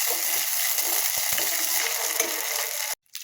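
Ginger garlic paste sizzles loudly in hot oil with a dense, steady hiss and faint scraping of stirring, cutting off abruptly near the end.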